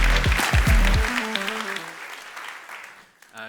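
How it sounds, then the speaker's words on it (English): Audience applause at a conference keynote opening, a dense wash of clapping that tapers off gradually while someone speaks over it, with a short musical sting underneath at the start. "Big round of applause."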